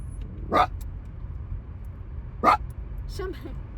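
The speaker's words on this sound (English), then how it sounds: "Screaming Mimi puppies." Small dogs yapping in a few short, sharp bursts with pauses between, somewhat distant, over a low rumble of traffic.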